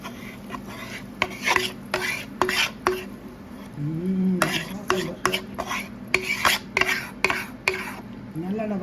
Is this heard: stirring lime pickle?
yes